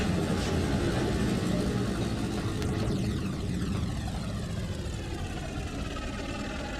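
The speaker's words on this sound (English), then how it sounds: "Nice look at the 44 tonners as they go by." Several 44-tonner diesel locomotives with dual exhaust pass in the Trainz 2022 railroad simulator on the C&O Hinton line, a steady loud engine rumble whose whine slowly shifts pitch as they roll by, with no talking.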